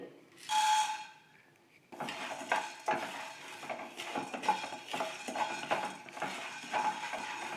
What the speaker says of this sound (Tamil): இந்த பேன் கொஞ்சம் ஹீட்டாக இருக்கனால சீக்கிரமாக இதெல்லாம் வறுபட்டுடும்.